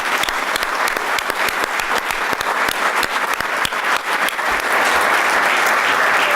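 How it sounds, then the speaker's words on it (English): Loud, close audience applause at a sports awards ceremony as an athlete's family stands, with sharp individual claps standing out of a dense, sustained ovation that holds steady throughout. "so we can give them a round of applause"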